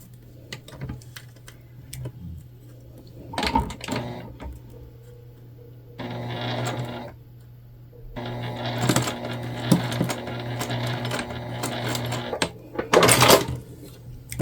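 A home sewing machine bastes the folded top edge of a tote bag in short bursts of stitching separated by pauses and small handling clicks, fairly close and without talk.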